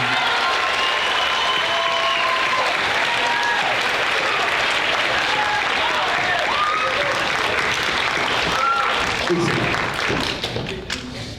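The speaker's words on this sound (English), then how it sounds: "Round of applause for all of that." Sustained applause from an audience at a middle school band concert, steady and dense for about ten seconds with scattered voices and cheers mixed in, then thinning out and fading near the end.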